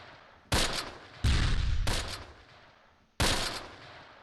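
Loud bursts of gunfire in a World War II tactical video game set in 1944, with three sharp volleys of crackling shots separated by short pauses and decaying tails, with no voices.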